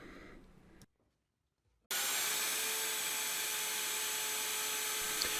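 A router cuts a mortise slot in wood for a sleigh bed, with a sudden loud, steady high-pitched whine after a short silence, staying even and close to the end.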